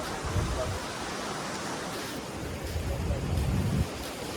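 Waves wash onto a quiet, clean beach at Aare Ware near Ratnagiri in Konkan, a soft continuous surf rush with gentle swells, mixed with breezy wind noise on the microphone.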